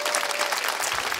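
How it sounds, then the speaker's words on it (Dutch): Brief, dense applause from a nightclub show audience for performers leaving the stage, a steady wash of claps without talk. "Geef ze nogmaals een applaus"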